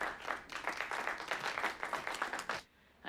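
Audience applause in a Mad Men scene, dense steady clapping from a crowd that swells and then cuts off abruptly near the end.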